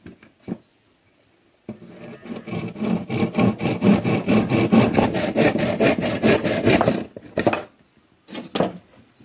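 Rapid back-and-forth sawing strokes cut wood beside a knot, close and rhythmic for about six seconds, with a few short scrapes before and after.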